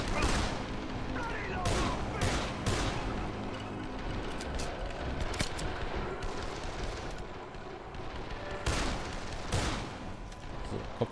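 Rapid bursts of gunfire and heavy shots from the zombie video game Dead Island, repeated volleys close and loud throughout with a voice talking over the action.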